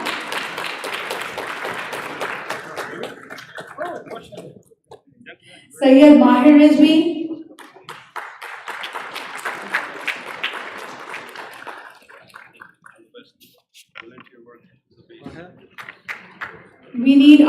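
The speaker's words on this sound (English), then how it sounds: "you can clap." An audience at an annual Hussain Day event breaks into a short burst of applause, loud and close, between stretches of someone speaking into a microphone.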